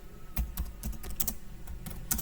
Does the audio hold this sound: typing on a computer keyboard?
yes